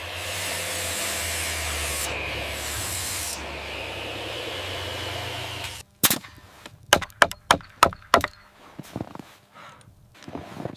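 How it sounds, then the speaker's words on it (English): Wood is cut for building chairs at a forest camp. A steady hissing wash gives way to a series of sharp, irregular knocks and cracks, close and loud, with brief pauses between them. "chairs begin with careful cutting."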